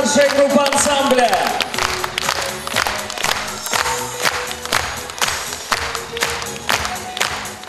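An audience applauding at an ensemble's annual concert, with dense clapping that starts over music and continues as a steady, rhythmic crowd sound beneath a voice.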